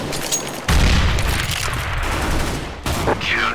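A heavy grenade blast in Counter-Strike: Global Offensive on a motel map, booming loudly, then continuous rattling gunfire, with a second sharp burst near the end, close and harsh.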